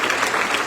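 A church congregation bursts into dense, sustained applause at full volume, a continuous wash of many hands clapping close by.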